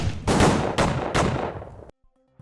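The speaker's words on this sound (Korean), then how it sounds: "수십 발의 총성이 그 차 앞에서 울렸습니다." A gunshot sound effect with several heavy, echoing blasts in quick succession, each a loud broadband burst decaying into the next, then cutting to near silence.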